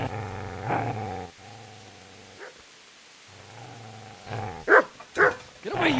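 In Kingdom Come: Deliverance, a dog growls low and snarls near the player, with rumbling growls, a pause, then sharper barks and snarls toward the end.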